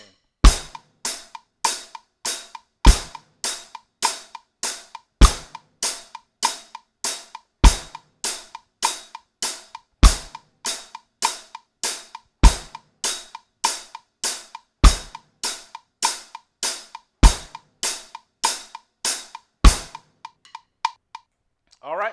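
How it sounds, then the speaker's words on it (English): Beginner drum lesson groove of kick drum on beats one and three with a steady eighth-note hi-hat, crisp evenly spaced ticks over deeper thumps, loud and close, playing alone for about twenty seconds before stopping. "All right, so that was the kick drum and the hi-hat."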